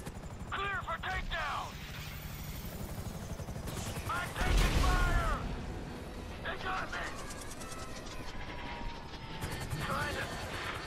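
A Grand Theft Auto firefight during a raid, with bursts of gunfire, a helicopter drone and clanking mechanisms. Shouted voices run through much of it.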